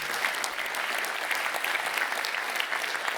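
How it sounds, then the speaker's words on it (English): Full audience applause at a freedom-themed talk, a steady, dense crowd clapping that fills the whole moment without speech. "she deserved applause"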